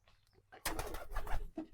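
A pair of domestic pigeons, a local-breed male with his mate, gives a quiet burst of low cooing after a near-silent start, fading out and then briefly returning at the end.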